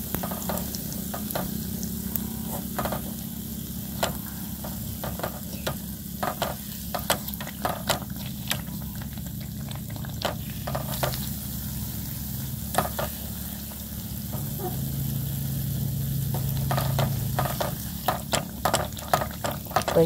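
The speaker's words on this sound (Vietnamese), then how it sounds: "rồi tiếp tục mình chiên với hết bánh luôn nha các bạn." Bánh tai yến pastries fry in hot oil, giving a continuous close sizzle and bubbling crackle. Frequent sharp clicks and scrapes from stirring and turning run through it, with no talking.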